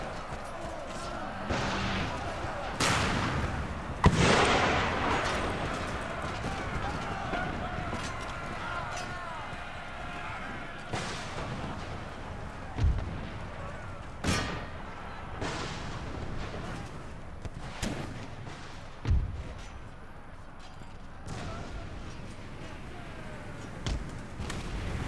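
Mortar artillery booms in an Empire Total War battle, several dull thumps scattered at uneven intervals over a busy battlefield din, with someone talking throughout.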